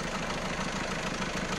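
A newly installed Peugeot 1.6 HDi diesel engine idles with a steady, even rumble and fine mechanical clatter, close up and constant for the short stretch.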